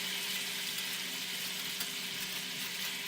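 Steady, loud sizzling from a pan with potatoes as its bottom is scraped during deglazing, a dense continuous hiss with faint stirring underneath and no pauses.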